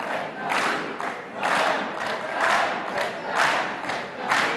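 An audience in a Tunisian television cultural programme studio claps and cheers in surging waves, about one swell per second, loud and close, with crowd voices mixed into the clapping.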